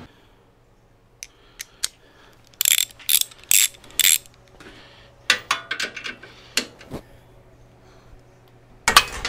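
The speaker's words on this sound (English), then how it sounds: "9/16 wrench. Them suckers are tight." Tight exhaust bracket bolts on a 1984–2017 Harley-Davidson Softail being loosened with a 9/16 wrench, heard as short bursts of close metallic clicking and ratcheting, separated by quiet pauses.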